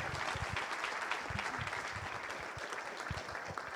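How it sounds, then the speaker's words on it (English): A conference keynote audience applauding steadily, many hands clapping together in a dense, sustained patter at moderate volume. "Definitely big round of applause for them"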